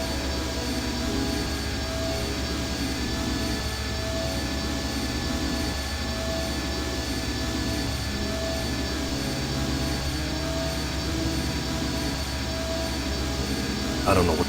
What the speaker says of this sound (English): This engine isn't as ruggedly built as it first looked.